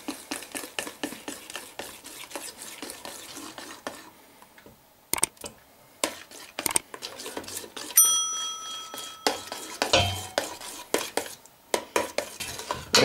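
A utensil stirs eggs into a warm honey-cake custard in a pot, producing close, irregular metallic scrapes and clinks with a brief ringing tap partway through.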